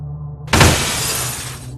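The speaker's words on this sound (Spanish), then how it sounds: "Con todas sus fuerzas, golpeó el vidrio, una y otra vez, hasta que finalmente," Mirror glass is struck and shatters at once in a loud, bright crash, then the shards ring and scatter for over a second, with no voices.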